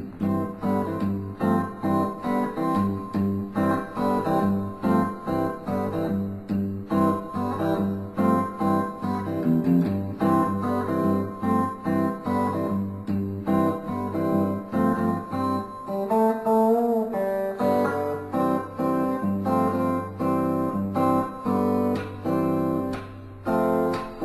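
Sped-up guitar strums Mixolydian chords in a driving gospel rhythm, played continuously and loudly, with a brief change of chord texture partway through.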